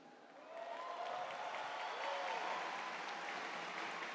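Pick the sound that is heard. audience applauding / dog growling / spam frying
audience applauding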